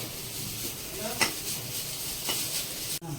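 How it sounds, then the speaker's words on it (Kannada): Ingredients for mutton curry fry in a pan with a steady low sizzle, while a spatula scrapes and clinks against the metal now and then, close by. "ಇದನ್ನು ಫ್ರೈ ಮಾಡ್ಕೋತಾ ಇದ್ದೀನಿ"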